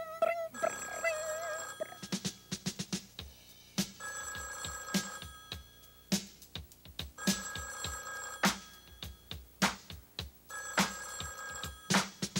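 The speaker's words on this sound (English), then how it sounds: "Answer the phone, little bear." Repeated telephone bell rings in short bursts over music in a 1985 children's educational program about learning to use the phone, with sharp rhythmic rings recurring throughout.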